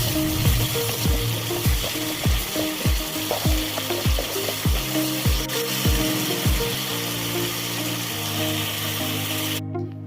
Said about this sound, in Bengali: এবার ভালো করে মশলাটাকে কষিয়ে নিতে হবে।